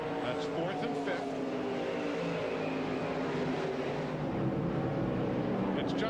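Racing trucks roar around Flemington speedway in the 1997 Stevens Beil/Genuine Parts 200, a continuous broad engine drone from the pack, heard under steady commentary.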